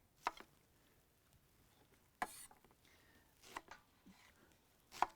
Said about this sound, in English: chop your red onion, not finely, quite chunkily